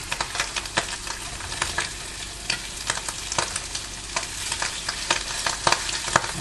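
Bacon frying and spitting in a hot pan, a close crackling sizzle with frequent sharp pops and spatters scattered irregularly throughout, no voices.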